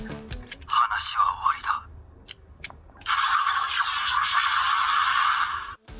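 A DX Oshaberi Gochizo toy for Kamen Rider Gavv plays its Valenbuster transformation sound through a small tinny speaker: a short electronic burst, a few clicks, then a sustained bright buzzing tone lasting several seconds.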